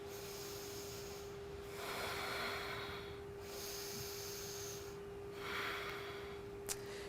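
Slow, deep breaths during a yoga flow, three long airy inhales or exhales rising and fading at an even pace over a low steady hum, close and soft.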